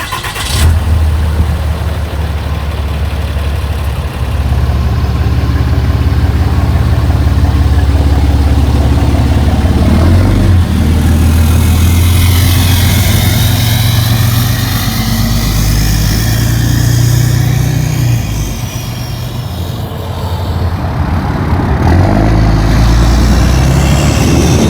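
A 6.7L Cummins diesel pickup fitted with a BD Screamer turbo, heard from inside on a test drive, its engine droning loud and steady, rising and falling as it accelerates and shifts, with no talk.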